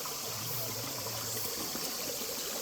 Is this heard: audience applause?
no